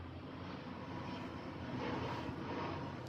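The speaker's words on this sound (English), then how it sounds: "Can you hear the plane coming in?" A landing airplane passes overhead beneath its flight path, a broad, steady engine roar that swells slightly as it nears and stays continuous without talk.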